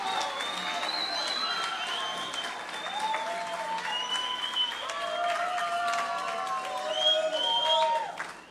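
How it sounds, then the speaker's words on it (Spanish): An audience at a school presentation event in Tandil gives a loud, sustained burst of applause and cheering, with high whistles and shouts rising over the clapping throughout. "Fuerte aplauso."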